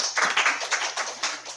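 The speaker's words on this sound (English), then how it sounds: "Let's give them a round of applause." Brief applause from an audience at a youth congress summit for a student group, a short burst of uneven hand clapping with a steady low hum beneath, no talking.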